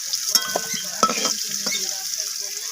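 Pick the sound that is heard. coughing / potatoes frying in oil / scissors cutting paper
potatoes frying in oil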